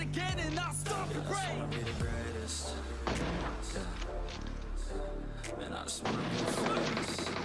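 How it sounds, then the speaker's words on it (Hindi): A UMP9 gun fires in a video game shootout. Sharp, close bursts of shots come in several clusters and mix with thuds and impacts, while someone talks over the action. "और तभी वो बंदा फिर से मेरे ऊपर फायर करने लगा।"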